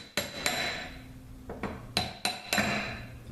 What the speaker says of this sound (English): So we can use that to knock the pump out.